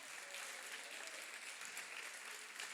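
A church congregation applauding the Lord during a Portuguese-language worship service, with a steady wash of many hands clapping together at a distance, fairly faint and continuous throughout.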